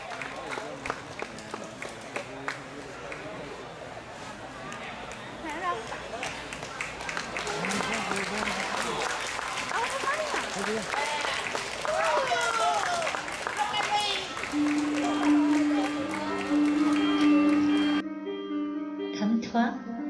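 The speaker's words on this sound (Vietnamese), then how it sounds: "Xin quý vị cho một tràng pháo tay sự trở lại của hoa hậu đương kim hoa hậu" Sustained audience clapping at a Florida beauty pageant as the returning 2014 queen makes her last walk, steady and dense over music for most of the stretch, ending with a sudden cutoff.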